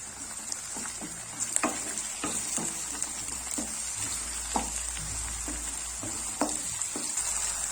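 Onions frying in a pan with curry leaves and ginger-garlic paste for a gongura pasta curry, a steady close sizzle broken by scattered crackles and pops, with no talking.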